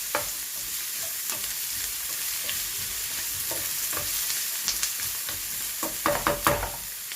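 A spoon stirs onions in a frying pan for shakshuka over a steady, close sizzle, with scraping strokes that grow louder near the end and no speech.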